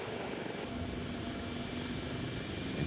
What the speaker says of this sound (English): The jet taxis out to the runway.